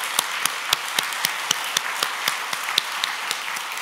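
Sparse, scattered handclaps ring out in an irregular rhythm at a church service, a thin smattering of applause with no talking over it.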